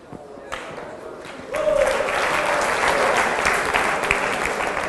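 Students burst into applause in a lecture room, a loud and steady wash of many hands clapping that starts abruptly and holds without a break, with some faint voices beneath it.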